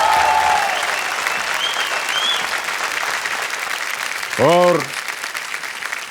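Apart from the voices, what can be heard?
audience applause on Kaun Banega Crorepati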